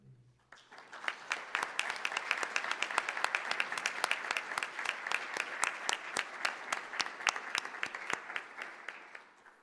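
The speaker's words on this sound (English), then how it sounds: "I'd like a round of applause for everyone." Sustained audience applause for a conference committee at an opening plenary session, a dense, steady run of claps rising quickly and holding for nearly ten seconds before tapering off.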